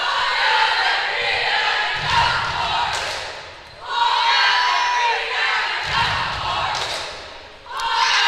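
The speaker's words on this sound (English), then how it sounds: "What's your opinion on the cheerleaders cheering while our team is at the free throw line?" Cheerleaders and crowd cheering in a gym during a girls' basketball free throw, sustained chanting and yelling with rhythmic thumps of stomping or drumming, loud and close, under talk.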